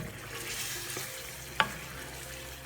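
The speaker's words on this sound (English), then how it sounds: "We just want this cook until it's all the way done. Let it cook in this gravy." Curry goat simmering in gravy in a pot, cooked until tender: a steady low bubbling sizzle throughout, broken by two sharp clinks of a utensil against the pot near the end.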